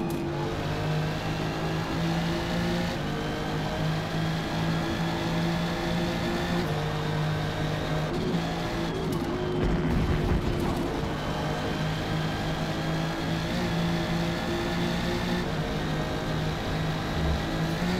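A McLaren P1 fitted with a GT-R engine races in Forza Motorsport, its engine holding a steady, loud drone with a brief dip and surge midway and no talking.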